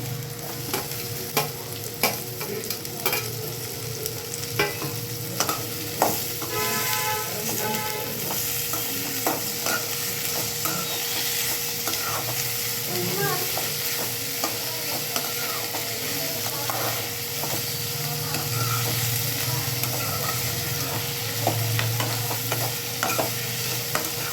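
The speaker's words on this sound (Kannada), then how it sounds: "ಇದು ಸ್ವಲ್ಪ ಫ್ರೈ ಆಗಲಿ." Chopped tomato frying in a pan for a pigeon-pea chutney, stirred steadily throughout with a continuous close sizzle, scraping and occasional utensil clicks against the pan.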